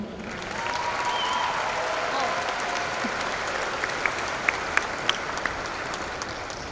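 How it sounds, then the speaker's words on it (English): A large audience at a high school commencement for the class of 2019 gives the dean sustained, dense applause, loud and steady throughout, with a few whistles and cheers rising above the clapping. "How about another round of applause for our dean?"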